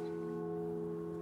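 A church carillon bell in a campanile rings with a sustained, resonant tone that hangs and rings out softly at a distance, alone without voices.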